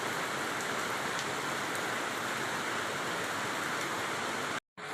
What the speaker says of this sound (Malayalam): ഞാൻ മഴ കാണിച്ചു തരാം. വലിയ മഴയൊന്നുമില്ല, ചെറിയ മഴയേ ഉള്ളൂ.